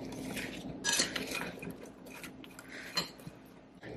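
Chicken marinade with olive oil, salt, ginger-garlic paste, pepper and Cajun spices is stirred in a bowl, with a utensil clinking and scraping against the dish in a few sharp knocks over a soft, continuous mixing rustle.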